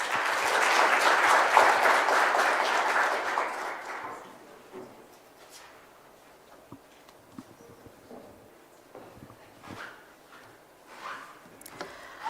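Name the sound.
audience applause for the Governor and MPC members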